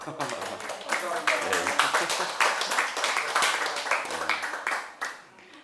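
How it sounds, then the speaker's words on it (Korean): An audience at a lecture claps briefly in a room, scattered hand claps mixed with a speaking voice over them, fading out near the end. "박수를 막 치고 그럴 일인가는 모르겠습니다만"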